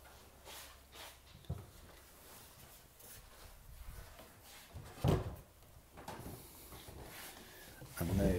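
A wooden drawer on an old Victorian pine linen press is pulled open, giving a few scattered scrapes and knocks at a quiet level, the loudest near the middle and at the end.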